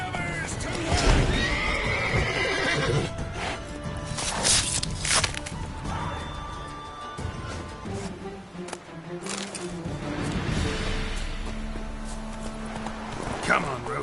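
Roach the horse in The Witcher 3 neighs and whinnies while hooves clop along, loud and close, amid game sound effects and with voices talking over it.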